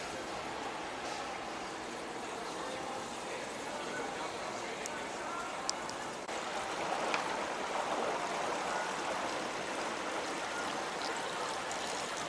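Water runs steadily into a shallow cruise ship pool lined with mosaic tiles aboard the Regent Seven Seas Mariner, a constant even trickle and stream with light background activity, growing slightly fuller partway through.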